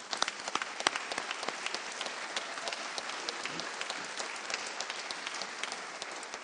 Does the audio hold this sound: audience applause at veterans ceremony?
yes